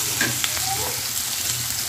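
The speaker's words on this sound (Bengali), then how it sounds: "তো আমি এখন পেঁয়াজটা লাল লাল করে ভেজে নেব।" Chopped onions frying in oil in a pan for a mutton curry, a steady close hiss of sizzling with a few faint clinks and scrapes of a spoon.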